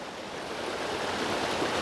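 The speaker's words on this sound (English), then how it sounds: "one of my favorite waterfalls I just discovered here" A waterfall and stream flow nearby at a hidden forest spot, a steady broadband rush that swells slightly louder toward the end, with no voices.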